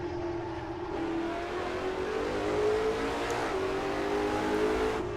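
James Bond's dream car sweeps through smooth banked turns, its engine droning steadily and climbing slowly in pitch, loud and close with a constant hum of road and wind noise.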